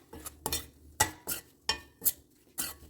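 Chickpea flour being stir-fried in a pan, heard as a series of close, sharp scraping strokes of a utensil against the pan in an uneven rhythm, about seven scrapes over a few seconds.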